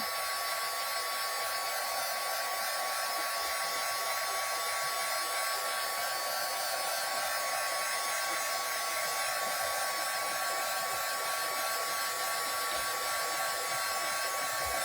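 Hair dryer blowing steadily and loudly at close range to dry a white paint coat on a tin can tree base craft, an unbroken whooshing hum that runs throughout with no speech.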